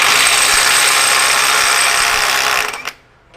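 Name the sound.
NEIKO 20V brushless impact wrench at 75 foot-pounds breaking bolts free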